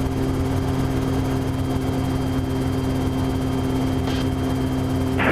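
A Cessna light aircraft engine drones steadily and evenly throughout, a continuous propeller hum with no talk over it.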